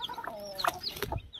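A white hen with her newly hatched chicks, giving short clucks close by mixed with higher chick peeps in a brief burst.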